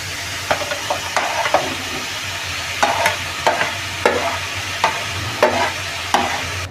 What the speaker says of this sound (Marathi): कांद्याबरोबरच आपण टमॅटो पण घालून देऊ